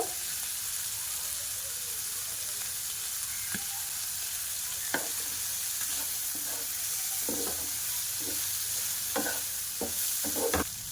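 Shredded cabbage stirred into a frying pan of spicy semai with beans, a low steady sizzle and hiss under repeated soft scraping and clicking strokes of a spatula, growing busier toward the end.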